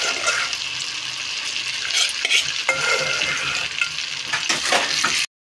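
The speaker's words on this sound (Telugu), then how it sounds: "రవ్వ అనేది వేగాలి కాబట్టి టైం అనేది పడుతుంది అన్నమాట. ఇక్కడైతే ఇలా కలుపుతూ ఉండాలి" Semolina frying in ghee and stirred continuously, a loud close sizzle broken by repeated scraping strokes of a spoon across the pan, lasting several seconds before cutting off abruptly.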